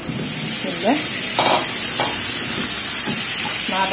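Onion, garlic and spices sauté in a pan, making a loud steady frying hiss up close with repeated scraping stirs of a utensil.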